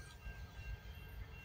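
CN freight train passing in the dark before dawn, a low, steady rumble of rolling cars and wheels at moderate distance, with no voices over it.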